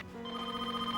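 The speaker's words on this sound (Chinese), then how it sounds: "大哥，你的电话，好像是秋荣。" A telephone rings indoors, a single short burst of steady electronic tone at moderate level with no talk over it.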